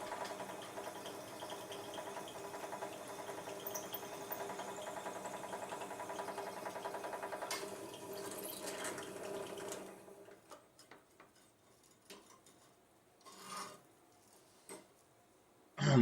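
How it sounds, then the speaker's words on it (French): A drill fitted with a 4 mm bit bores through a table football rod, a quiet, steady whir lasting about ten seconds before stopping, followed by a few faint clicks and handling noises. "Et là, vous percez de part en part."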